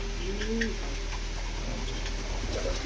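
A pair of Rajshahi Giribaz pigeons with heavily feathered, muffed feet coo softly, with one low rolling coo early and fainter murmurs after it, over a steady background hiss.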